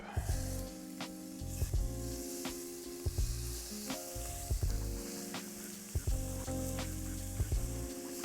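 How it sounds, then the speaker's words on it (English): Shrimp sizzle steadily in melted butter in a pan, a close, continuous crackle punctuated by repeated scraping and clinking as they are moved about, with no talk. "All right, butter in the pan. We can add our shrimp."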